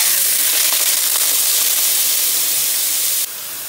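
Chopped onions fry in hot desi ghee with bay leaf, cinnamon and cloves, giving a steady, loud, close sizzling hiss that runs unbroken and drops slightly at the end.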